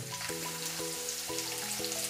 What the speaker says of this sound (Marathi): मस्त बारीक कापायचा कांदा आणि तो टाकायचा कढईत